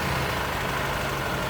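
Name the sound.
superbike with stock exhaust engine running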